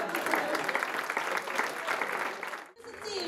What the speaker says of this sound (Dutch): Oké, applaus aan.